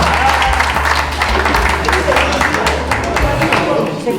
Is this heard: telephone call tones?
no